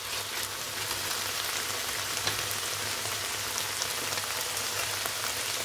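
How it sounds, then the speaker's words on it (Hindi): Chicken pieces fry in a pan, giving a steady, dense sizzle with crackling spits that runs unbroken throughout, close and fairly loud with no voices. "अच्छे से कुक हो रहा है चिकन।"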